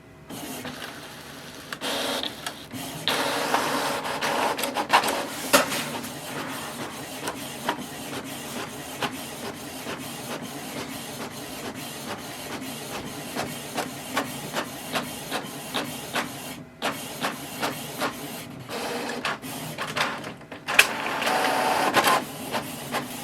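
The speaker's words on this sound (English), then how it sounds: "I left in the audio so that you're able to hear how this printer actually prints in real life" A Canon TR8620 inkjet printer running through pages: mechanical whirring and hissing with rapid repeated clicks and carriage passes, steady over a long stretch.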